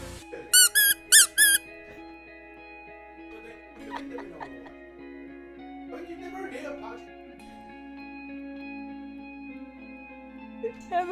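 Pachi-san toy squeaking in a short burst of several sharp, high squeaks at the start, with quieter background sounds and faint voices afterward.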